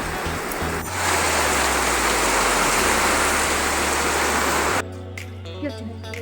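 Steady broadband rain hiss fills the clip, loud and continuous, then cuts off abruptly near the end, leaving quieter background sounds.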